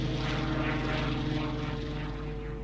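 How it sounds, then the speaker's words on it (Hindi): A Spitfire fighter plane with a Rolls-Royce engine flies past, its propeller engine a loud, steady, close drone with a constant low hum throughout, no voices. "रोल्स रॉयस इंजन वाला स्पिटफायर विमान भी था, जो दुनिया के बेहतरीन फाइटर प्लेन्स में से एक था।"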